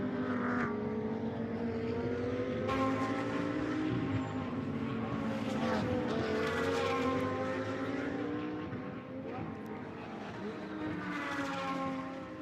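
GT2 race cars, a KTM chasing Audis, roar past on the Algarve circuit, engine notes rising and falling through gear changes as several cars sweep by close and loud.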